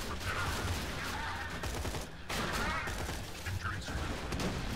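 Gunfire in the video game Borderlands 2 crackles in dense, rapid bursts with two main volleys and a brief pause between, fairly loud and continuous, with explosive pops mixed in.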